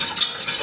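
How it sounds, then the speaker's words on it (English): A whisk stirs a cornstarch mixture in a pot on the heat, made for Turkish delight. It gives a continuous soft, hissing scrape with no talking. "But now I'm whisking it, and it's okay, more boiling and whisking"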